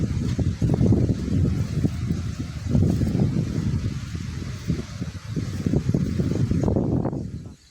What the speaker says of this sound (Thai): ลมอันนี้ก็หยุดบ่เซาพี่น้อง